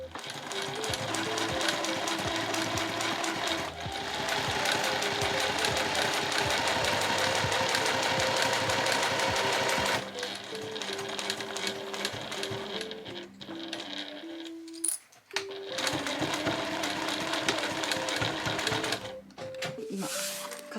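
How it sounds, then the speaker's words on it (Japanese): A sewing machine stitches steadily along the edge of a bag being remade into a two-way backpack with an add-on zipper. The close, continuous mechanical whir pauses briefly near the end before resuming, with no talking. "そしたら表からそのまま際を縫っていきます。"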